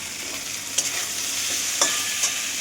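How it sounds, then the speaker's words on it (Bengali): Bitter gourd slices fry in a pan with a steady, close hiss of oil and a few soft stirring clinks, with no talking. "এখানে হচ্ছে উচ্ছে ভাজাটা হচ্ছে"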